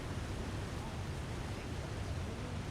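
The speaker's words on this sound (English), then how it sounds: "Yeah, Astrid, I can barely hear you over the waterfall" A video game waterfall gives off a steady, dense rushing roar, constant and fairly loud with no break across the stretch.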